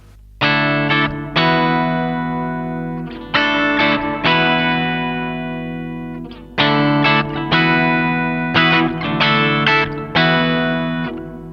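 Distorted electric guitar played through a Marshall RF-1 Reflector reverb pedal with the reverb damped, loud sustained chords struck in rhythmic groups, each decaying with a subdued, less dominant reverb tail, no talking.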